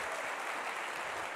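A conference audience at an information security congress applauds, a brief dense burst of steady clapping.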